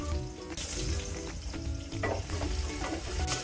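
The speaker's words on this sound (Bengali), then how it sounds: "এক মিনিটের মতো পেঁয়াজটা ভেজে নেব" Chopped onions frying in oil in a karahi for a Bengali fish curry, a steady close sizzle with bursts of crackling and the scrape of stirring, no talk.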